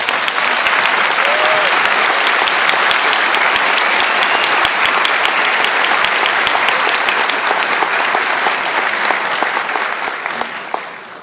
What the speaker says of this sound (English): Please give these exceptional soldiers a round of applause